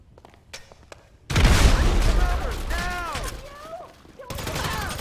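A frag grenade explosion followed by gunfire in Grand Theft Auto 5, a sudden loud blast erupting after quieter clicks and shouts, then sustained rumbling fire with voices calling out over it.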